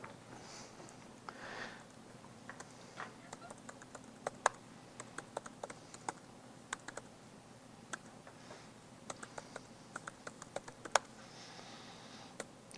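Fingers tap on a computer keyboard in quiet, uneven bursts of sharp clicks, some keystrokes louder than others, with no talk over them.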